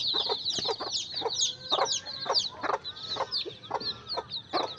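Young desi chicks, a few days old, peep in rapid, high repeated bursts close by, a busy continuous chorus of chirps with no talk over it.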